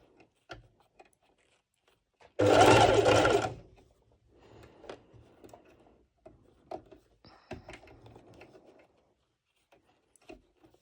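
A sewing machine runs slowly over a zigzag stitch on a ruffled underwire bikini top, with one loud whirring burst followed by quieter intermittent mechanical ticks and clicks in a hushed room.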